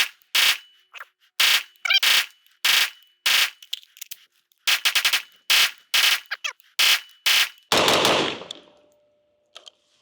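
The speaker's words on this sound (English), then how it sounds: "But let's get out there and do some shooting." A Caracal CAR816 rifle fires outdoors through two magazines, sharp loud shots in rapid single and paired bursts with short pauses, ending in a longer rattling burst and a faint ringing tone.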